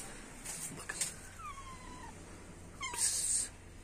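Cat meows, mother of newborn kittens, heard as two drawn-out, rising-falling calls a couple of seconds apart, fairly close and clear over faint background noise with no talking.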